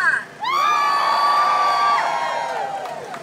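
A protest crowd in Utica cheers and whoops loudly after a brief pause, high voices sustained and swelling together for a few seconds before easing off.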